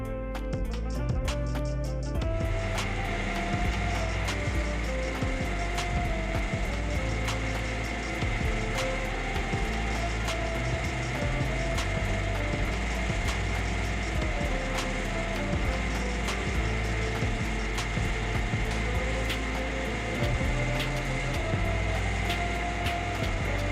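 A Vermeer SC30TX tree stump cutter grinding into wood, a loud continuous mechanical roar with a steady droning engine tone and dense grinding texture, unbroken for the whole stretch.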